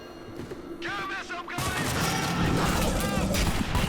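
Gunfire from a trooper's shotgun in the video game Dark Sector erupts in a loud, crashing burst midway through, overlapping a dense barrage of combat noise and shouting voices.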